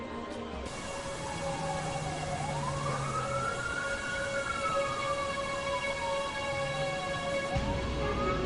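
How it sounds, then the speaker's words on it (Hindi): An ambulance siren wails at the scene of a car accident, its rising and falling tone sweeping slowly over a dense layer of traffic and crowd noise, loud and sustained throughout. "वो देखो एम्बुलेंस भी आ गई।"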